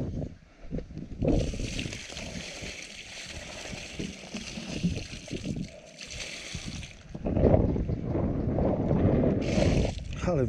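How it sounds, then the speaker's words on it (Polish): Strong wind buffets the microphone at a house building site where drainage pipes are being laid. The roar is loud and gusty and runs the whole time, with gusts swelling and easing, and no one speaks. "Ale wieje."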